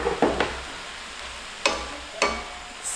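Mushroom and zucchini stir fry being stirred in a pan, with a few scraping strokes and soft clatters spaced out over a low sizzle.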